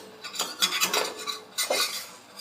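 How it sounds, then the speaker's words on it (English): A spatula scrapes and clinks against a pan and plate while lifting cooked eggs from a double-layer casserole, a few short metallic scrapes and taps close by, with no talking. "we're gonna take the spatula and put it into the"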